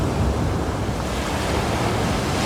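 Sea waves wash onto the beach at Hat Saeng Chan in Rayong, Thailand: a steady, loud roar of surf mixed with wind rushing across the microphone, with no voices.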